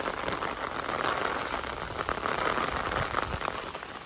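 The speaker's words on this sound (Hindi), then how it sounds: "इसका मतलब है बारिश अच्छी खासी हो रही है" Heavy rain pours down on a mud house in a Punjab village, a dense, steady hiss of drops striking surfaces with faint patters throughout and no voices.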